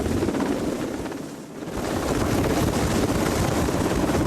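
Loud continuous rotor thrum of a helicopter, dipping briefly then returning to a steady, close droning roar.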